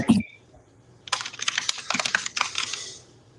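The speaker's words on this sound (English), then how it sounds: "Someone is typing like a fiend." Rapid typing on a computer keyboard, a dense clatter of key clicks starting after a brief pause and continuing steadily at close range, heard alone without talk.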